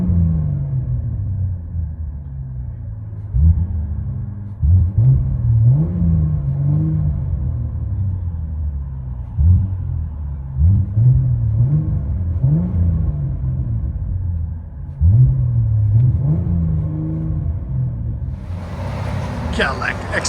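Interior of a 2014 Cadillac XTS V-Sport with a 3.6L twin-turbo V6 and Paradox exhaust (mid delete, rear delete, quad tips), giving a deep, droning rumble that swells through repeated revs and acceleration pulls, with a brief hiss near the end.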